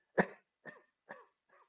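A voice imitates a soft cough, four gentle coughs in a row, each quieter than the last, close and alone.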